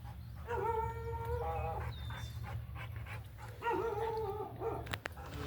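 Several dogs howl in long wavering tones in two bursts, with barks and panting mixed in over a low steady hum, fairly close and moderately loud.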